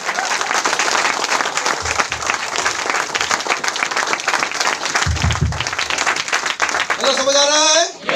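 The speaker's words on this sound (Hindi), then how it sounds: "तालियां तो बनता है" Loud applause and clapping from an audience at a leadership training event, sustained and close, with brief voices and a shout near the end.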